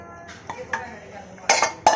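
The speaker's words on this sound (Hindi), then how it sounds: "अब मैं सालन को डिश आउट करती हूँ।" Egg and dal salan curry being served into a dish: a few light spoon clinks and scrapes against metal and crockery, with two sharper clatters near the end, close and fairly quiet.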